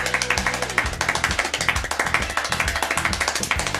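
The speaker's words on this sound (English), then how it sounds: "This man is the fastest clapper, being able to do 14 claps per second." A man claps his hands extremely fast, around fourteen claps a second, in a rapid, even stream of sharp, close slaps with no voices over them.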